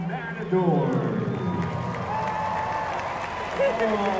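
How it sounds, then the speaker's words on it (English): Crowd at a bull-jumping show applauding and cheering for the matador, a broad wash of clapping and voices with an announcer talking over it. "how about a big round of applause for our Matador?"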